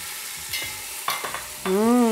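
Gatta, gram-flour dumplings, fry in a pan with cumin and curry leaves, hissing steadily under a few clattering stirs, then a sustained tonal hum rises at the end.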